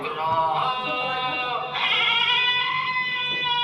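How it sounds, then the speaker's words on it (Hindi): A goat bleats in long, wavering cries, two drawn-out calls close by and fairly loud, the second starting midway and rising slightly, with faint background noise underneath. "उस्ताद जी बकरा आ रही है।"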